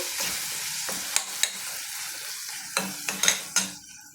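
Tomatoes, onions and chili powder fry in a pan for green moong dal, a steady close sizzle broken by several sharp scrapes of a spoon stirring against the pan, with no talk.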